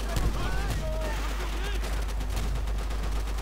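Rapid, dense gunfire crackles from the World War II shooter Call of Duty: World at War, sustained bursts and shots layered over a steady low rumble, with someone talking over it.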